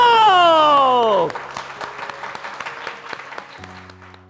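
A studio audience at a cooking competition final claps for the runner-up and winner. A falling musical sweep opens, then dense, steady applause continues to the end with a low hum entering late.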